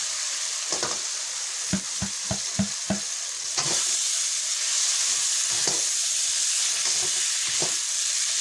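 Cooked chili going into a frying potato-eggplant sambal, a string of quick scraping stirs over a constant oily sizzle, then a louder, fuller hiss as it settles, near and alone.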